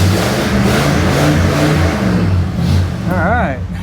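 Car engine running as the vehicle backs out of a garage after a brake overhaul, a loud, close rumbling idle that rises slightly, with a person speaking over it.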